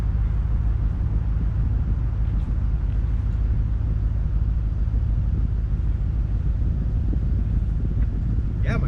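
A truck engine idling with the hood up after a vacuum tube has been blocked off, a steady close low rumble running evenly and smoothly throughout, with faint wind noise on the microphone.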